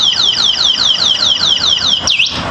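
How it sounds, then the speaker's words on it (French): Electric mobility scooter's anti-theft alarm blaring nearby: a loud, rapid series of repeating descending electronic chirps, ending in a single upward swoop, with no voices over it. "si jamais quelqu'un essaye de bouger le scooter, l'alarme s'enclenche la première fois"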